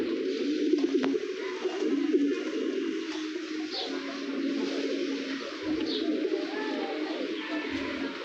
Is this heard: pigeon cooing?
yes